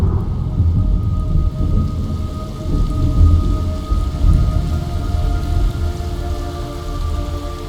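Steady heavy rain pours down with low rumbling thunder underneath in the video game Metal Gear Solid Delta, a continuous dense wash of sound with no voices.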